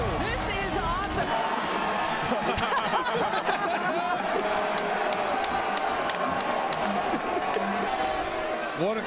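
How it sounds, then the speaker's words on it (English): A large live crowd at a college football show at Michigan State in East Lansing roars steadily throughout, with whoops, shouts and laughter layered in a dense, continuous wall of cheering. "This is the best crowd we've ever had."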